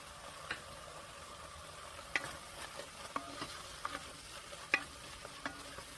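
Chicken thigh pieces with salt, pepper, dill and paprika cooking in a pan for a Romanian chicken and pea stew, a steady soft sizzle with faint stirring scrapes and occasional clicks, close and unbroken, no talking.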